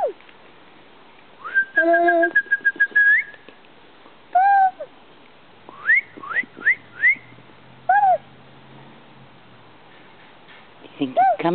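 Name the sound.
person whistling to call a cat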